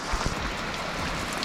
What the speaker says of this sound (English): And then it started pouring rain.